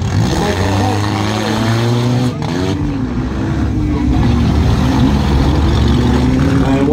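Several race car engines roar and rev on a gravel track during a heat race, loud and close, with pitch rising and falling as cars accelerate, under a commentator's voice.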